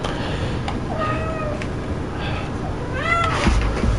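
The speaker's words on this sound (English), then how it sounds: "the sound of a kitten who desperately wants to be let into a room" A kitten meows plaintively to be let into a room, with several drawn-out cries spread across the stretch, moderately close, over low background noise.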